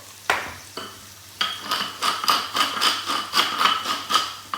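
Asparagus salad tossed with olive oil, a few sharp knocks and then a rhythmic series of wet scraping strokes of utensils against a bowl, close and fairly loud, no speech.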